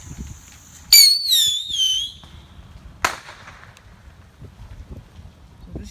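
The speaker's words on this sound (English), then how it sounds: "I got a triple whistling rocket. I'm gonna just light it off right here." A triple whistling rocket firework goes off on a windy day, giving a loud piercing whistle that slides downward for about a second, then a sharp bang, under gusting wind noise.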